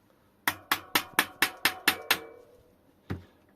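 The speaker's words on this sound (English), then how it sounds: "Take the world's largest hammer." A very large hammer strikes the axle of a Promovec (Shengli) hub motor, with a nut wound level on the axle end. Eight sharp, ringing metallic blows land in quick, even succession, then one final blow follows after a pause.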